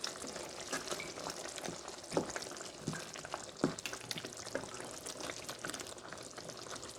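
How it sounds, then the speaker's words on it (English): A beetroot shrimp sauce simmers in a pan, a soft bubbling and frying crackle with occasional louder pops and stirring knocks, close but quiet with no talking. "So now I am going to allow it to simmer."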